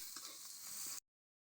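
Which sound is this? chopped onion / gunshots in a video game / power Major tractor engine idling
chopped onion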